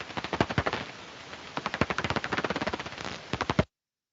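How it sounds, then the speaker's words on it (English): Daubenton's bat echolocation calls played back through a bat detector: a rapid, dry, crackling train of clicks like a machine-gun burst, in quick runs with brief gaps, fairly loud and with no voices over it. "Now, I'm going to play the Daubenton's next, because this is where you'll hear your difference between your dry and your wet sounds."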